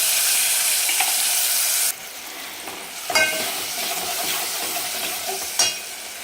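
Tomatoes added to a hot pan with red chilli powder for a brinjal curry, a bright hiss that drops to a softer steady sizzle, with a couple of sharp spoon taps against the pan.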